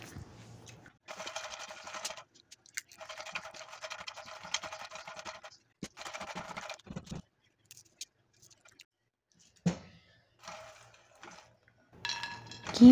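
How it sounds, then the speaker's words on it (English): Two cups of lotus seeds dry-roast in a pan over medium heat. Stirring brings bursts of dry rattling and scraping that start and stop, with light clinks between them. "Lotus seeds 2 cups, roast on medium heat for 3 minutes."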